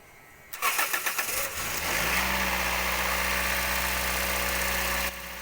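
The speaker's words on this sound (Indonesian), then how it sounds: "Starternya sih suaranya renyah banget ya" A Toyota Vios starter cranks in a few quick rhythmic bursts, then the engine catches and settles into a steady idle hum, close and loud.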